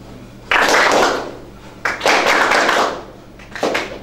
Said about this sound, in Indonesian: silahkan tepuk satu